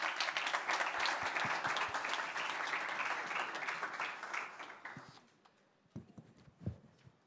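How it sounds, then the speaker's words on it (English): A conference audience at a summit gives presenters a warm round of applause, many hands clapping steadily before fading out, followed by a few scattered footsteps and thumps in a quieter room. "So please give a warm round of applause to our presenters."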